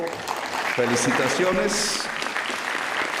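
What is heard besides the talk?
applause for the National Police cadets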